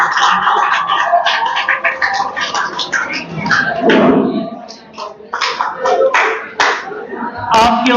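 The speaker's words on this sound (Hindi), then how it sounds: "I would like all of you to please put your hands together for all the participants today." An audience applauds the participants at a school academy event, dense clapping that swells and dips over several seconds while a voice speaks through part of it.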